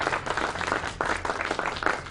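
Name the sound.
audience applause for a quiz team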